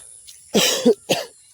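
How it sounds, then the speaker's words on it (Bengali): A person coughs outdoors on a morning walk: a strong double cough, then one more after a short pause, close and loud with no talk. "অল্প কাশি হইতেছে আজকে।"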